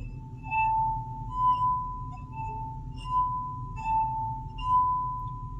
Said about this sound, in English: the glass and the water vibrate to make a sound